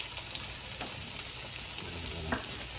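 Meat for a pot roast sears in a hot pan with a steady, close sizzle and faint crackles and pops throughout, with no talking.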